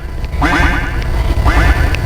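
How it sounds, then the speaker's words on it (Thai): Two loud, nasal duck quacks close by, each a short burst of raspy calls, separated by about a second. "กาบกาบกาบเป็ดอาบน้ำในคลอง"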